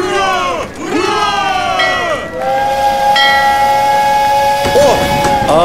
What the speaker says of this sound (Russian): вскоре мы ожидаем прибытия на станцию первого пассажирского поезда